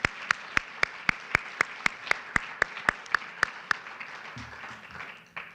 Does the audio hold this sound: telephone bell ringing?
no